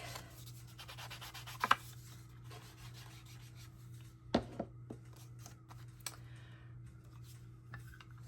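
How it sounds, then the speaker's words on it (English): Paper journal tag edges are distressed with a tool, producing soft, close scraping and rubbing strokes punctuated by a few sharper taps and clicks against a faint steady hum. "Make the tag shape. Do our distressing."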